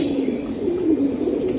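Giribaz pigeons give a low, soft, continuous cooing close by, a brief murmuring burble with no talk over it.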